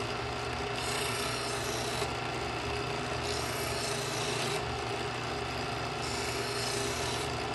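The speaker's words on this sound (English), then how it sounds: "I'm only using the interlocking ceramic wheels to touch up the blade and maintain the" A knife blade is drawn through the interlocking ceramic wheels of an Edgeware adjustable-angle sharpener, making a close, gritty rasping in repeated even strokes roughly every second or so, with no voices.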